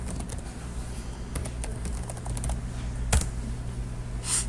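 Keys tapped on a computer keyboard while a password is entered, a quick irregular run of light clicks with brief pauses and one sharper keystroke, steady room hum beneath and no talking.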